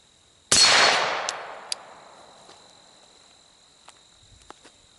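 A single loud gunshot slamming into a steel target plate, a sharp crack followed by a long, slowly fading metallic ring, then a few faint clicks.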